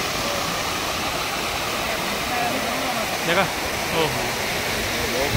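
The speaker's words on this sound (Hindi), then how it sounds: "आवाज़, देखो कितनी ज़बरदस्त लग रही है झरने की" Beri Ganga waterfall near Jodhpur, swollen in the rainy season, roars steadily and loudly from close by, a dense unbroken rush of falling water with a few brief voices over it.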